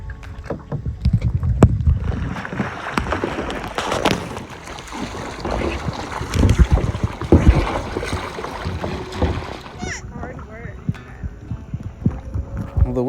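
Gusty wind buffets the microphone in rough, uneven surges, with splashy water and boat noise mixed in and no voices.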